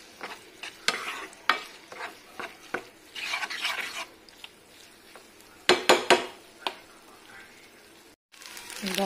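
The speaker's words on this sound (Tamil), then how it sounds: "இப்படியே சிம்மிலையும் வச்சு கிண்டி விட்டுக்கிட்டே இருங்க" Sago is stirred in ghee in a pan over a low flame: a spatula scrapes and taps the pan in repeated irregular strokes over a soft sizzle, with a few louder clusters of scraping.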